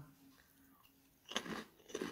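Crunchy fried fish crackers (amplang) are bitten and chewed at close range, with a few sharp crunches in bursts after a quiet start.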